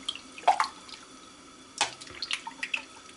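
Cheese curds gently stirred in whey while making sheep's milk Gouda, producing faint, sparse liquid sloshes and drips, quiet and close.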